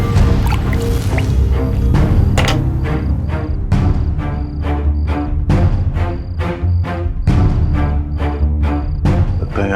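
Acid dripping onto a pooled liquid surface, a loud, steady run of separate drops falling one after another with no talking.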